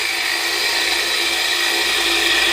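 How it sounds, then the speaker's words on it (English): A bowl gouge cuts the core of a wooden bowl spinning on a lathe, giving a steady, loud, bright hissing shear that holds without a break. "I lean into the lathe. And just bring this core down."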